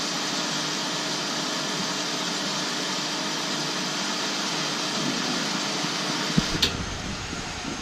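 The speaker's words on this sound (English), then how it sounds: "And the pump cuts out." A Turrini DEP 800 water recycling system pump hums and hisses steadily at a constant level, then its low drone drops away near the end with a brief click.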